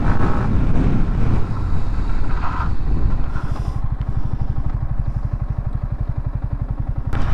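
A Yamaha MT-15 BS6 2020 motorcycle rides along during a braking test, its engine droning loudly with wind buffeting, then settling into a steady low pulsing putter as it slows.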